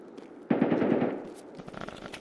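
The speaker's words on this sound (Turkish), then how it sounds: "Silah sesi geliyor hala ama Fortress'tan mı?" A burst of rapid automatic gunfire in a video game raid, loud and rattling for about a second, then fading into quieter scattered shots and game noise.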